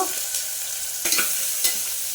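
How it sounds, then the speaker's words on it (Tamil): Fennel seeds hit hot oil in a pressure cooker and sizzle with a steady bright crackle, punctuated by a few sharper spits and stirring scrapes. "எண்ணெய் காஞ்சிருச்சுங்க. நம்ம சோம்பு தாளிக்கிறதுக்கு போட்டுக்கலாம்."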